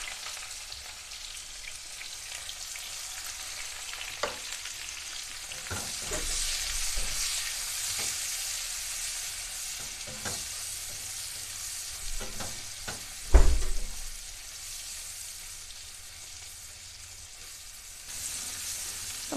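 Onions and green chillies frying in oil after potatoes and taro were removed, a continuous soft sizzle broken by scattered spatula scrapes and one sharp clack, close by.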